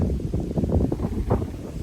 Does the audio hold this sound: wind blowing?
yes